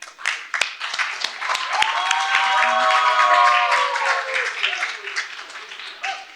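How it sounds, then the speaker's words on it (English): A crowd breaks into loud, sustained applause and cheering, with a voice calling out over it, swelling and then fading. "give the loudest, craziest round of applause"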